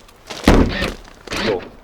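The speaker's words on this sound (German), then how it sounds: "Heckklappe." A tailgate on a 2021 Niesmann Bischoff Flair 920 LW motorhome, built on an Iveco Daily, shuts with a solid, full thud, followed by a second softer closing knock a moment later.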